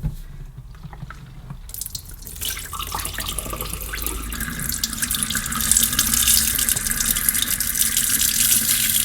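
Dirty water pours from the top of a Vax HF1400 carpet washer's tank into a sink, starting quietly and then becoming a steady, loud, close gushing splash that continues to the end.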